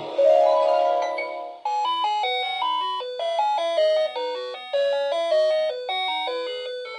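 A My Little Pony G3 Celebration Castle toy plays a tinkly electronic chime melody, a sustained opening tone followed by a stepping sequence of bell-like notes, clear and near with no talk.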